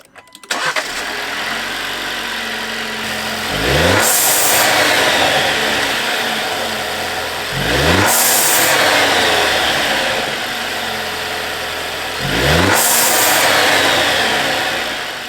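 A 2022 Jeep Wrangler 2.0L turbo engine with a newly installed blow-off valve revs three times over a steady idle, each loud rise ending in a hissing whoosh, close by.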